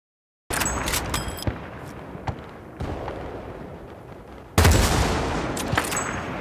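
Gunfire bursts in a video game, loud and close, with a sharp opening volley, scattered single shots and a second heavy burst later, alone without talk.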